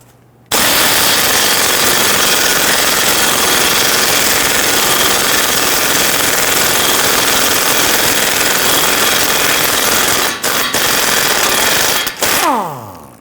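A loud, continuous rattling impact-wrench burst loosens the lower control arm nut with a 21mm socket on a Dodge Charger front suspension, running steadily for about ten seconds with two brief dips before cutting off.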